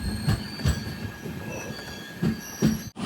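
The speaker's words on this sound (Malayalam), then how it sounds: "ട്രെയിൻ ഇത് അങ്കോള റെയിൽവേ സ്റ്റേഷനിലേക്ക് എത്തുകയാണ്" The Panchaganga Express pulling into Ankola railway station, with wheels squealing in a steady high whine over rhythmic clacks and thumps of the carriages rolling over rail joints at close range.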